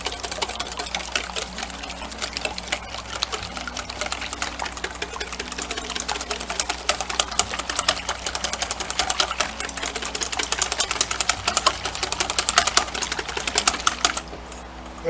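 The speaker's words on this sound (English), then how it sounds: "And now we're going to mix this up. I'm using a whisk." Eggs are whisked briskly in a bowl for scrambled eggs, making a fast, steady rattling clatter that runs continuously and close for about fourteen seconds before easing off.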